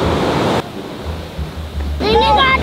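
Big ocean waves break on a beach, with a loud surging wash at first, then a lower rumble with wind buffeting the microphone, and a voice speaking near the end.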